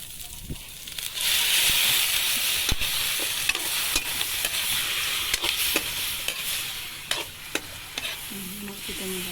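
Meat for adobo frying in a hot wok, a steady loud sizzle with scattered clinks and scrapes from stirring, and no voices.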